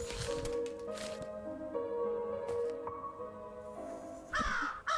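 Raven cawing in the video game Habromania, a few rough caws and croaks over a soft ambient musical drone, with a squishing sound near the end.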